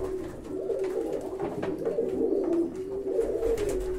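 A pigeon coos in repeated soft, throaty phrases close to the microphone, a steady low warbling that continues throughout.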